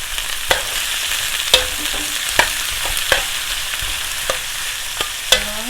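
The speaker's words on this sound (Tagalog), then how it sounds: "Add ko na yung pork belly." Pork belly frying in a pan for pinakbet, a steady loud sizzle with a series of sharp stirring clacks spaced roughly every second, no voices.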